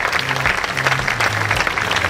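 An audience at the Miss Veneto 2022 beauty pageant final in Jesolo claps steadily and loudly, a dense continuous applause filling the whole moment.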